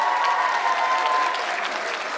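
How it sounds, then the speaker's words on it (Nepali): A concert audience in Pokhara claps steadily and warmly to welcome a veteran singer, dense sustained applause from a large crowd with no speech over it. "अझै एकचोटि ताली।"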